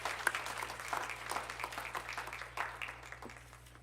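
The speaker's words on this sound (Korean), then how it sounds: "큰 격려의 박수를 보내주시겠습니다." A church congregation at a Sunday service claps in encouragement, a moderate crowd of hands patting unevenly and fading gradually, quiet and a little distant over a low steady hum.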